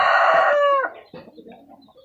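A single rooster crow from a very large rooster, loud and close, ending abruptly and followed by faint clucking and rustling.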